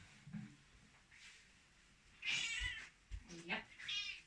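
A cat meows in a few short, bright calls close to the mic, with a soft voice murmuring underneath in a quiet room.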